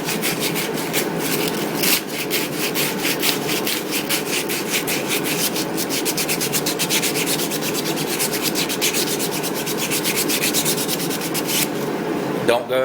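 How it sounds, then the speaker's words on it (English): A starter shaft from a Briggs & Stratton engine is rubbed with extra fine sandpaper to remove surface rust, a close, steady rapid scratching rhythm that continues without pause. "And I just get me some extra fine sandpaper and clean up"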